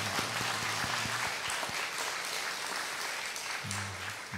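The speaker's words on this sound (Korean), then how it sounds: "우리 환영하는 박수 하겠습니다" Steady applause from a church congregation during a Sunday service, a dense wash of clapping that holds evenly throughout, with faint low tones underneath.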